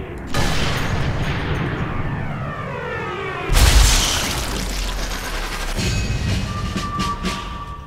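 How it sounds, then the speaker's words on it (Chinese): A bomb goes off in Sniper Elite 3 as one sudden, heavy blast about halfway through. It rolls out into a long rumbling tail over a steady mechanical drone. "那炸弹的引爆方式除了射击它以外，也可以在旁边使用打火石，让它引燃之后就会让炸弹爆炸。"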